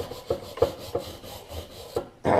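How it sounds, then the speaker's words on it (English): Wire brush scrubbing caked mud and grime off Yamaha Blaster ATV A-arms, a series of short rasping strokes close up, roughly one every third of a second, ending in a louder burst of scraping. "We're just using a wire brush real quick to clean up all the mud and junk built up on our A-arms"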